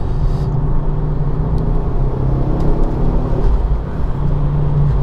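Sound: Ford Focus RS Mk2 engine intake while driving

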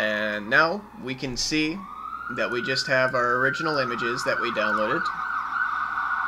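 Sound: sirens outside

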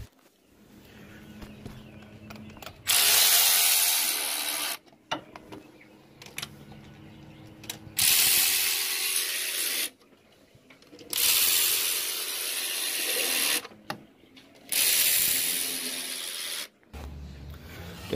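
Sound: ratchet removing spark plugs on a Chrysler 300

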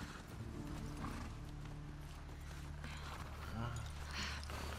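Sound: horse hooves clip-clopping in video game The Last of Us Part II

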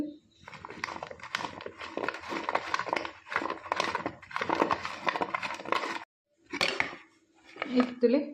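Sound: spiced paneer being fried and mixed in a pan

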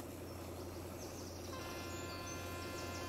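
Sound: birds chirping, ambient sound in a train simulator video game

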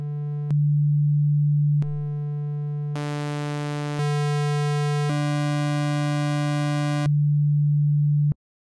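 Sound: sine wave from Logic ES2 synthesizer

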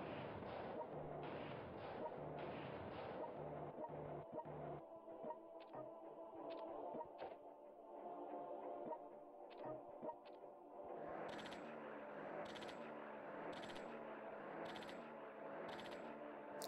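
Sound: artillery fire in video game World Conqueror 3

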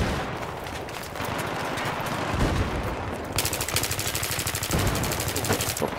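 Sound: gunfire in a video game

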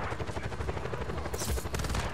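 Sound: gunfire in the video game Just Cause 4

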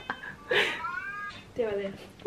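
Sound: cat meowing

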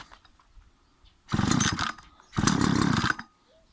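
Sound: Sparta 25 machine being switched on and tested

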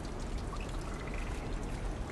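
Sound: water rising in the video game Limbo

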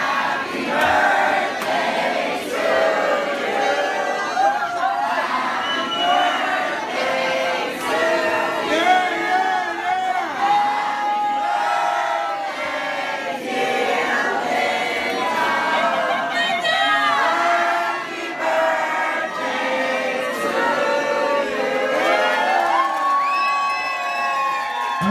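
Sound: guests singing happy birthday loudly

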